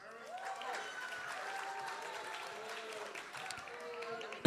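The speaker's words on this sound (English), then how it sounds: "All right, let's clap for Clarence Thomas." A game show studio audience claps in sustained, even applause, with voices talking over the clapping.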